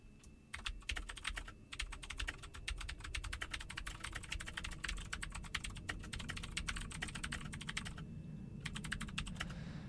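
Rapid, continuous typing on a computer keyboard, a dense run of close clicks and key taps with a few brief pauses, loud and alone with no talking.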